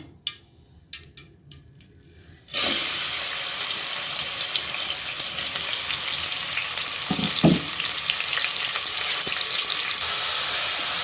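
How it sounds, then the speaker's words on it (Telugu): Onion hits hot oil with mustard seeds in a pan, setting off a loud, steady broadband sizzle that begins abruptly after a couple of seconds of quiet clinks and continues unbroken, with occasional stirring scrapes. "ఆవాలు హీట్ అయ్యాయి సో ఇప్పుడు మనం ఆనియన్ వేసుకుందాం"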